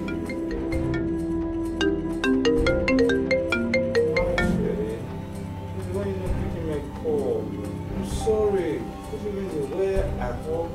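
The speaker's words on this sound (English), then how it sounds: "Honey, your phone is ringing." A phone ringtone plays a repeating melodic pattern, with voices talking over and after it.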